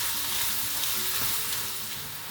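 Onions frying in a pan after ground meat has browned, a steady, even sizzle that holds close and unbroken throughout, with no voices.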